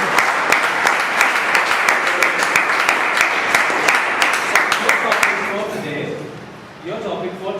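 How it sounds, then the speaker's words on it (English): A crowd gives a big round of applause as guest Mr. Rajan Parulekar arrives, loud dense clapping that holds steady for about five seconds, then fades out while a speaker starts talking. "request you to give him a big round of applause as he comes here"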